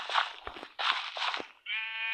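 Sheep in the video game Minecraft bleat several times in short, wavering cries close by, with one long, tonal bleat at the end.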